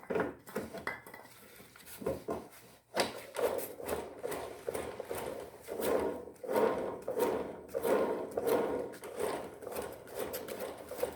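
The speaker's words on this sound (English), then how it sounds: "I'm going to give this little WD-40 in here, let it spin around a little bit" A rusty bearing on a free push mower spins after a spray of WD-40, giving a rough metallic scraping and rubbing, close and steady with uneven surges across the whole stretch.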